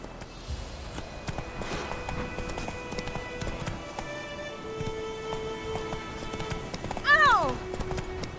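Roach the horse gallops in The Witcher 3, steady hoofbeats clip-clopping close by beneath game music and a voice, with a sharp whinny rising near the end.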